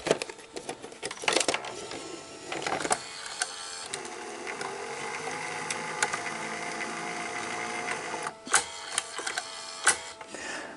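A Toshiba V-S46 VCR slowly loading a tape: a steady mechanical whir with ratcheting clicks and clunks, ending in a few sharp knocks as the mechanism settles, close and fairly loud with no talk.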